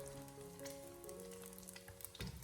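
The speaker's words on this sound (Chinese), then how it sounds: "油热以后将鸡蛋倒进锅里面，开中小火给它慢慢的煎制一下" Eggs frying in hot oil in an iron wok over medium-low heat give a steady, close sizzle and crackle, with a few faint tonal scrapes and a brief louder clatter near the end.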